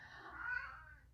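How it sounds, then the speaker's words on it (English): A house cat meows once in a drawn-out, rising-then-falling cry, fairly close and clear over a quiet indoor background. "that's my cat, you'll have to excuse her."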